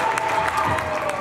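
Church congregation applauding and ululating in praise of Jesus during a worship service, a steady dense wash of clapping with high trilling cries running throughout.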